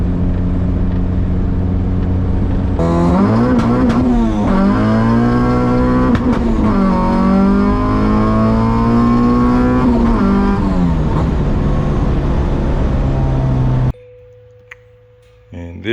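A Honda Civic with an H2B engine runs with an odd fault, its loud, close engine note rising and falling in wavering revs for about eleven seconds before dropping to a quiet, steady hum.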